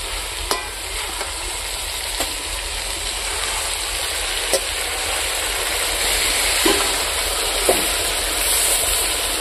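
Goat fat melts in a hot pan with a steady crackling sizzle, close and continuous, broken by a few sharp ticks and scrapes of a utensil against the pan.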